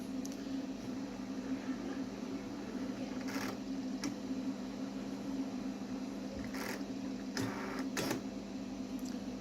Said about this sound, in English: it's going to rotate the gear to find a home position before it actually calibrates